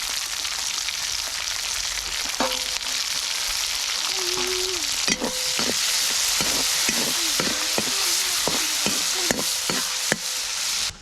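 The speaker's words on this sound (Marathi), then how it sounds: "टॉमॅटो पण तळून घेते" Tomatoes frying in oil in a pan give a steady close sizzle, with a spatula scraping and stirring in repeated short strokes through the second half; no one speaks.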